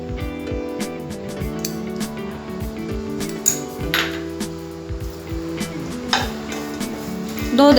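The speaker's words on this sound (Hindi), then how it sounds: "अभी हम खसखस, दालचीनी और ब्लैक पेपर तीनों को साथ में भून लेंगे।" Poppy seeds, cinnamon and black pepper dry-roasting in a pan for garam masala, with a spoon repeatedly stirring and scraping, metallic clinks and light rattling over a faint sizzle, close and busy.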